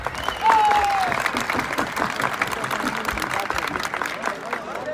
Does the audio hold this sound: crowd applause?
yes